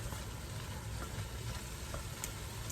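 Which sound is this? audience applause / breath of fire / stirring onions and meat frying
stirring onions and meat frying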